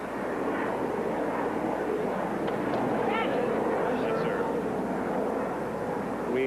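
Propeller airplanes droning overhead near a 1983 outdoor tennis final at Forest Hills, between LaGuardia and Kennedy airports, as a steady broad rumble under crowd and court ambience with talk.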